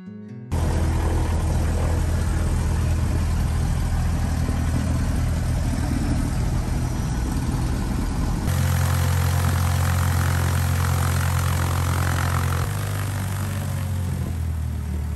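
An airplane engine runs steadily at idle during a post-oil-change test run, a loud, low droning hum that shifts to a deeper, heavier tone partway through and then eases slightly.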